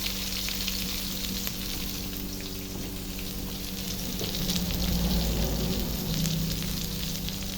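Crabs sizzle in a pan of hot oil with onions, a loud, steady crackling fry close by that swells and bubbles harder as more pieces go in, with no talking.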